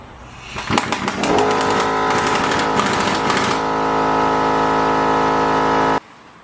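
A power tool runs loud and close while compressing the rear shock spring of a BMW E39, with rattling bursts at first that settle into a steady droning whine before cutting off.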